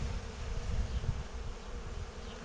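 Black honey bees buzz steadily around an opened Dadant hive, a dense low drone from many insects close by, with no talk.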